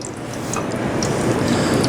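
Empanadas frying in hot oil, a dense steady crackle and bubbling sizzle that builds slightly, close and continuous with no voices.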